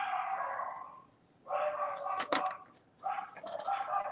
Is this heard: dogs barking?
yes